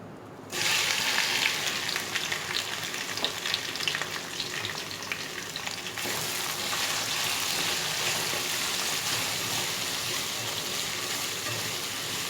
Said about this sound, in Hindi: भिंडी फ्राई करते हैं।